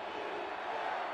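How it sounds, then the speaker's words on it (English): Stadium crowd at a football game: a steady, distant roar of many voices cheering, brief and moderately faint, with no distinct talking over it. "Listen to this crowd."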